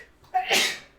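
A single sharp human sneeze, close and clear, with a short intake before the burst and a quick fade.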